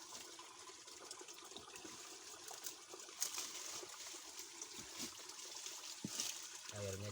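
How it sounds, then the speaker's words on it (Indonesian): Water from a natural spring in highland terrain trickles and gurgles steadily, faint and continuous, with a brief voice at the very end. "Dan ini mata airnya sobat."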